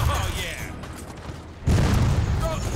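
Enemy gunfire in the Gears of War 4 co-op campaign on Insane difficulty, a dense rumbling fusillade of booms and mechanical clatter that jumps louder partway through and keeps pounding, with voices talking over it.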